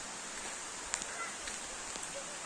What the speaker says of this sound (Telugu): వర్షం అయితే పడుతుంది అనమాట